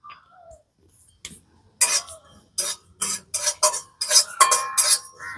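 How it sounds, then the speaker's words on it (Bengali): A spoon scrapes and taps in rapid, irregular strokes as whole fennel seeds are stirred while dry-roasting in a warm wok, crisp and close, with no talking. "মৌরিটাকে হালকা করে খালি একটু নেড়ে নিয়েছি"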